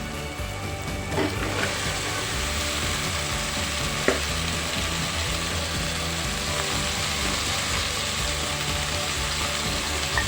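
Cauliflower, potatoes and peas are sautéed in a pan with softened tomatoes, giving a steady low sizzle broken by scraping, clicking stirs of a spoon against the pan, close up and with no talking.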